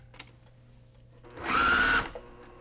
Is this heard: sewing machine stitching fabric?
yes